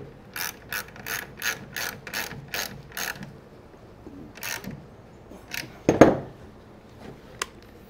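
Wrench ratcheting on a carriage bolt while a wooden high deck chair is assembled: a run of about eleven rapid, evenly spaced metallic clicks, then scattered softer clicks and a sharp knock near the end, close and fairly quiet.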